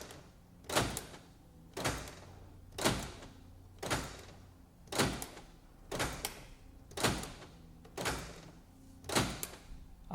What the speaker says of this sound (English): I will press the door lock switch 5 times to lock unlock in 1 second